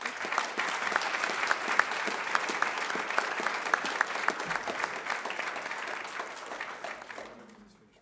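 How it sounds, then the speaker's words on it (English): Applause from an audience at a school district governing board meeting, a steady wash of many hands clapping that stays full for about seven seconds and then fades out near the end. "Would you please give John a hand of applause?"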